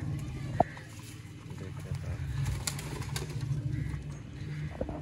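Low, soft cooing of a Sialkoti pigeon repeats steadily beneath someone talking, with a busy background of other birds.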